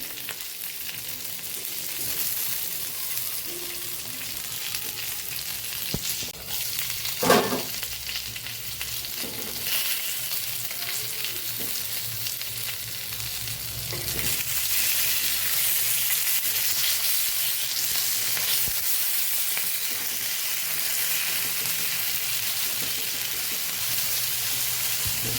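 Stuffed chilies fry in oil on a Kathiyawadi-style iron griddle, giving a continuous close sizzle with a brief louder crackle as they are turned partway through.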